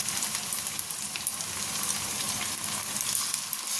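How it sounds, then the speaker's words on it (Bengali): Spice paste of ginger, garlic, green chili and tomato fries in a pan, giving a steady, close sizzle throughout with no talking. "এতে আদা রসুন কাঁচা লঙ্কা টমেটো সব দেওয়া আছে এদিকে ভালো করে কষিয়ে নেবো"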